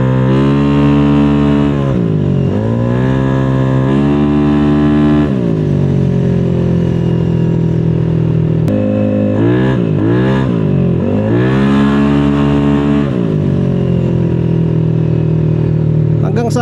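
A motorcycle engine revs hard at high RPM, its loud harmonic whine sweeping up and down in repeated surges and holding at a high steady pitch between them, with a voice speaking over it.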